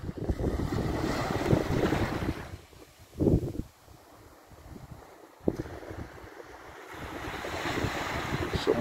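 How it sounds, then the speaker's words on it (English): Surf rolls onto a sunny beach in loud, washing surges that fade to a quieter lull midway, then build again with a sharp break, all mixed with gusty wind buffeting the microphone and no talking. "It's the sound of the waves."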